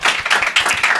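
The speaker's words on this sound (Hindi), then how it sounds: "एक बार फिर तालियां।" An audience bursts into a short, lively round of applause at a spoken event, dense overlapping hand claps close and fairly loud, with no voices over them.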